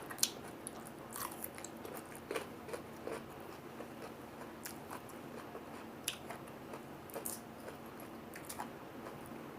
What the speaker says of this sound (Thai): ได้ยินเสียงความกรอบ เขาไหมคะ